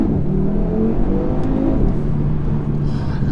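A 2019 Audi RS3 pulls hard from a launch without launch control, its engine a loud, close, rising rumble heard from inside the cabin, continuous for a few seconds with no talking.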